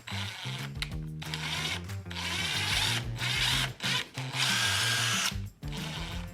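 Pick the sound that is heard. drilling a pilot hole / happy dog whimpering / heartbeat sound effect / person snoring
drilling a pilot hole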